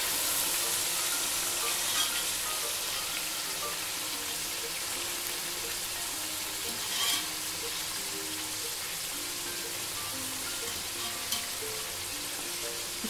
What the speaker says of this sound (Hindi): इसका मसाला भी और ये गोश्त भी हमने इसमें डाल दिया। अब इसको अच्छी तरह हम इसमें भून लेंगे।